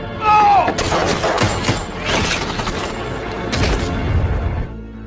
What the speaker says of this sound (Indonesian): Andre pun tewas di tempat, diberondong oleh peluru agen Jimmy.